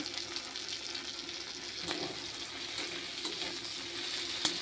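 Chopped onion and dried fish frying in oil in a pan, a faint, steady sizzle with a few soft stirring clinks, close but quiet and without talk.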